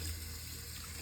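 Steady rushing water, like a tap running into a sink while bathing a Persian cat, continuous and fairly close with no voices.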